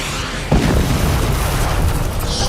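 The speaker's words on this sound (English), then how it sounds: "No Decepticon can resist a shot from my blast force launcher" A Transformers blast force launcher fires with one sudden deep boom, which rolls into a loud, sustained rumbling roar that fills the rest of the moment.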